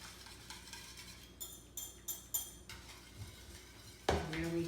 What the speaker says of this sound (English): And now we can go ahead and put in our buttermilk.